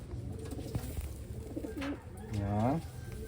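Pigeons cooing close by, two or three drawn-out throaty coos with a rolling, descending quality, over a low background hum.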